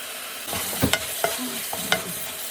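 Onions with green chilies and curry leaves being stir-fried in hot oil, heard as a close sizzle with several sharp scrapes and knocks of a spoon against the pan over a couple of seconds.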